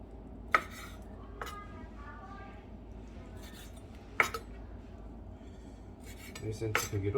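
A knife cuts crab sticks into roughly 1 cm pieces on a board, giving a few sparse, sharp clicks and taps with faint clinks against a low, steady kitchen background.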